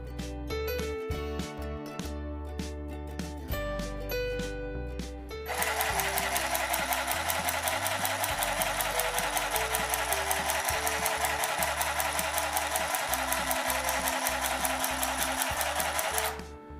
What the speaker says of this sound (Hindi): सिलाई मशीन को यूज़ करने के लिए हम स्टार्ट कर सकते हैं।